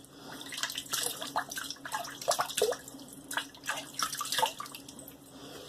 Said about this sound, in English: Let me wet my face again.